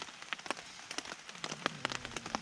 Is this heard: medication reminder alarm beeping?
no